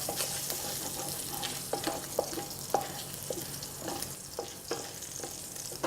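Bacon and vegetables fry in oil in a pan for a lasagna, a continuous sizzle with repeated sharp scrapes and taps of a utensil stirring throughout, fairly close and even in level.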